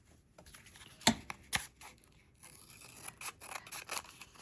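Scissors snip through paper in a few crisp cuts, followed by softer rustling snips, close and quiet.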